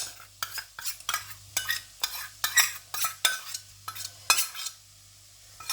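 A spoon stirring refried beans into a pan of chilli, giving about a dozen close, scraping strokes in a steady rhythm over a low hum, then a brief quiet at the end.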